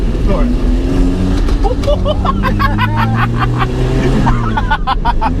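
A Vauxhall Chevette accelerates hard at full throttle in second gear, its engine note rising steadily and loud from close by inside the car, with people talking over it.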